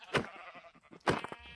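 Minecraft sheep bleat twice, close and clear, each a short wavering baa separated by a brief pause, with no talk over them.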